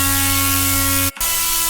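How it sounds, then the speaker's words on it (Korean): A steady, buzzing drone from a three-blade UAV rotor with strong tonal hum, continuous and loud, cutting out for a split second near the end before resuming. "그 다음에 3매의 블레이드를 가지는 로터의 소음입니다."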